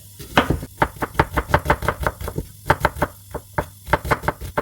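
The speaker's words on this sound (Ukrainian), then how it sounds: "ми подрібнемо цибульку на шматочки" A knife chopping an onion rapidly on a cutting board, a quick steady run of crisp taps close by, pausing briefly before continuing.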